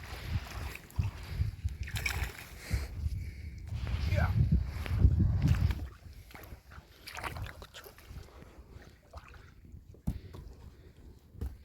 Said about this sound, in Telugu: సో ఇదే మనం టూరిజం కోసం ఉపయోగించే బోట్